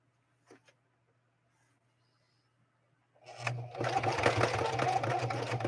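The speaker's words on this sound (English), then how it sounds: "Listen to that machine work. You can hear the density of that cowhide." A Singer 4411 sewing machine zigzag-stitches a long line through dense cowhide, starting suddenly after a few quiet seconds and then running loud and steady with a fast, busy mechanical clatter to the end.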